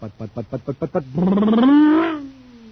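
A voice mimics a car engine, starting with quick chugging pulses and then swelling into a long, rising and falling revving roar.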